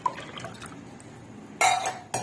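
Water is poured from a glass into a metal cooking pot on a gas stove to make an Ayurvedic kadha, with two brief bright splashing bursts over a quiet kitchen background.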